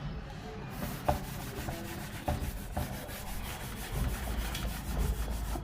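An eraser scrubs chalk writing off a classroom board during a chemistry lesson, giving repeated rough rubbing strokes with a few sharper knocks, fairly close and without speech.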